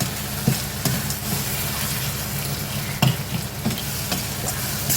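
Cumin and coriander seeds frying in oil for prawn thokku, a steady close sizzle with a few sharp clicks of stirring against the pan, no voices.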